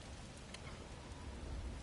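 Desert storm rain in God of War Ragnarok, a dense steady hiss of heavy rainfall with a faint rumble underneath, constant and unbroken throughout.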